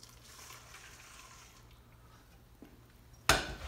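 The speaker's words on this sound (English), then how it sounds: "Then we're going to add our boiling water," Boiling water poured from a kettle into a bowl of Jell-O powder mix, a sudden splashing gush near the end after quiet kitchen sounds and a faint clink.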